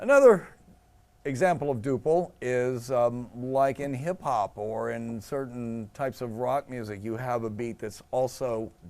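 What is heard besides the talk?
No everyday noise stands out behind the speech.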